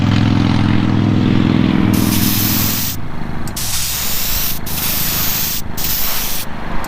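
A spray gun hisses steadily at close range while laying a wet coat of paint on a custom 1955 Chevy gasser, the spray cutting in and out in short bursts toward the end.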